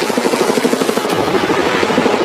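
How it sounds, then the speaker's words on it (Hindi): A helicopter flies over the sea near a private island, its rotor giving a steady, loud, continuous thrum and chop that holds throughout with no break. "ये हेलीकॉप्टर हमारे बॉयज को ऊपर हवा में ले जाएगा"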